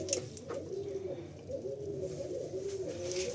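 Many pigeons in a loft with birds for sale, giving steady overlapping coos close by in a continuous rolling murmur with no talk.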